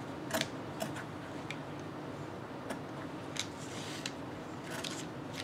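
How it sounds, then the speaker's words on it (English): Sewing scissors snip fabric while a two-color scrub cap is made, quiet crisp cuts spaced irregularly over a faint room hum, with no talking. "I'm going to use my scissors to cut this off"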